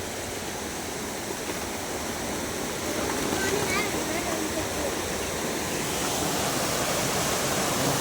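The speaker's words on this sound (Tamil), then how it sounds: "இங்கே பாருங்களேன் எவ்வளோ தண்ணி போயிட்டுருக்கு பாருங்க." Floodwater in a river rushes steadily, a loud broadband roar of churning water that holds constant from start to finish, with no pauses or distinct splashes standing out.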